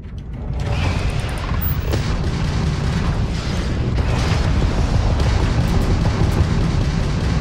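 Missile explosions from the space game Starfield: a continuous, loud rumbling barrage of booms and bursts with no talk over it.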